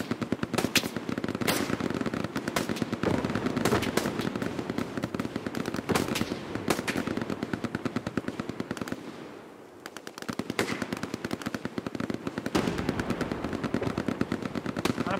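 Sustained machine gun fire in the World War II shooter Hell Let Loose, dense rapid bursts crackling almost nonstop at loud, close range, with a brief lull near the middle before the shooting resumes.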